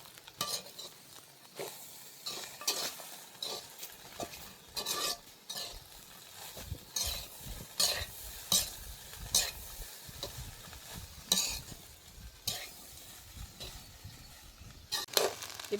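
A spoon scrapes and stirs a rice dish in a sizzling pan over a village cooking fire, the strokes coming in an irregular rhythm of a dozen or more close scrapes over soft frying.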